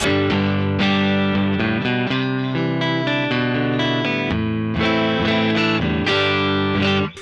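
An electric guitar on the neck pickup plays strummed chords and single notes through a Lovepedal Reverb Deluxe pedal, loud and up close, with a warm, slightly driven tone and a reverb tail.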